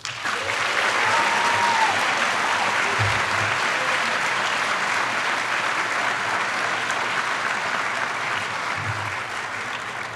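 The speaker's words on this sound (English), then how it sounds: "Please give a round of applause for Ben Rathert." A large audience at a high school senior recognition ceremony applauds continuously for about ten seconds, a dense, even clapping that fades slightly at the end.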